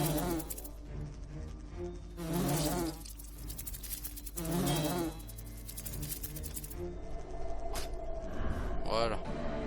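Wasps buzz in the video game Lords of Xulima, a few distinct droning swells rising and fading over a quiet background while someone talks.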